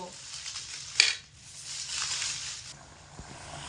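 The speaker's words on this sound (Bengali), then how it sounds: "জল দিয়ে হালকা একটু নেড়ে চেড়ে দেবো" Potato curry stirred in a pan after water is added, cooking uncovered on high heat: a soft scraping, stirring rustle over a low background hiss, with one sharp clink of a utensil near the start.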